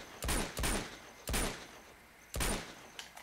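Four sharp gunshots ring out in the video game Uncharted 2: Among Thieves on PS4, spaced irregularly across a few seconds, each a loud broadband crack with a short decaying tail.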